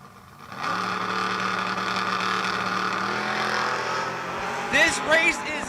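Drag race cars launch hard down the strip with a sudden loud engine roar that sustains for several seconds, rising in pitch, before tapering as a brief voice-like shout breaks in near the end.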